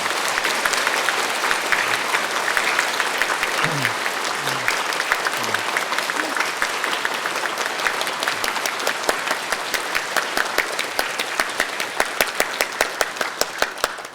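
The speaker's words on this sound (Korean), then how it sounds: "자, 박수로 축하드립니다." Sustained audience applause at a Catholic priest's ordination celebration and first Mass in a church, steady dense clapping filling the room for about fourteen seconds with faint voices underneath.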